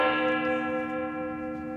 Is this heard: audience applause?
no